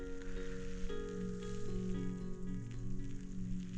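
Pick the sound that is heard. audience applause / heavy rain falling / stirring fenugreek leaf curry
heavy rain falling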